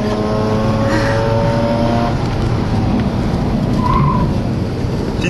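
A car drifting at Circuit de la Bresse gives a continuous loud roar of a hard-worked engine with a rising whine that fades, heard from close by with no talking.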